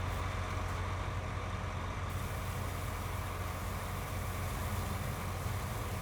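Truck in Farming Simulator 2019 pulling a trailer while braking, a steady loud engine drone with rumbling low end and a brief hiss of air at the start.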